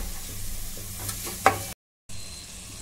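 Chopped carrot, cabbage and other vegetables are stirred in a hot pan for a soup, giving a soft sizzle with a few scraping strokes before a brief dropout of silence.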